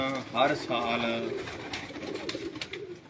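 Pigeons coo and flutter on a rooftop loft, several close soft coos rising and falling, with a voice talking over the birds.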